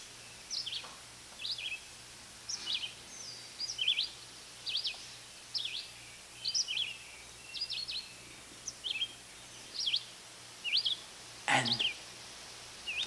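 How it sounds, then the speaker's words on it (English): Small birds sing outdoors in short, bright chirping phrases that repeat every second or so over a quiet background with a faint low hum, and one louder call cuts in near the end. "The birds are included."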